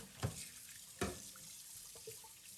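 Pork belly being rinsed under a running kitchen tap, with faint water flow and a few soft splashing bursts as the meat is moved, quiet and alone.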